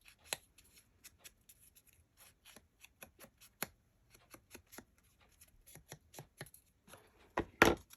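Scissors snipping the corners off vintage paper ephemera for a tall skinny journal, a long series of short, crisp, close clicks at an irregular pace, mostly quiet with a louder cluster near the end.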